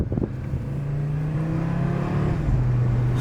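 A 2024 Audi RS3 accelerating hard from a launch-control start, its engine note rising loudly and steadily from inside the cabin, then dropping briefly at a gear shift before climbing again.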